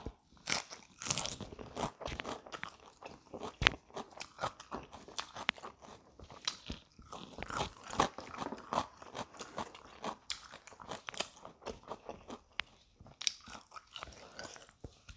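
Someone eats a crunchy fish ball salad up close, with steady loud crunching and biting that repeats over and over, and no speech.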